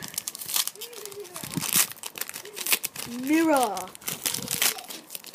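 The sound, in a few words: tearing open a foil-wrapped pack of trading cards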